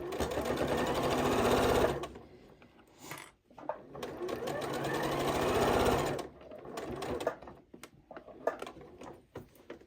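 A Janome 8200 QCP sewing machine stitches darts on a fabric bowl cozy in two loud, sustained runs of rapid needle clatter, separated by a short pause and followed by lighter handling noises.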